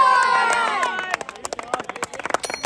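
Crowd at a cricket match, children among them, clapping and cheering in scattered bursts that rise after an early swell of cheering, moderately close and lively.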